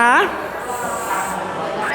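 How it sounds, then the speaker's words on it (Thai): Hairspray sprayed from a can onto a comb during a Thai banana-shaped updo styling, a steady hissing spray lasting about two seconds after a brief voice at the start. "พยายามฉีดที่หวีนะ"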